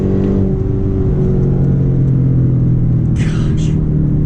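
A 2013 Hyundai Genesis 5.0 R-Spec V8 pulls hard under acceleration, a loud, steady low engine rumble and drone heard from inside the cabin, with someone talking over it.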